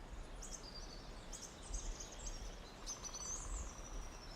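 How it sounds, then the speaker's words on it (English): Birds in a forest sing in short, high chirping phrases over a steady hiss of insects and ambient noise, faint and distant, with no voices. "Do I need to murder some of these birds to keep them quiet?"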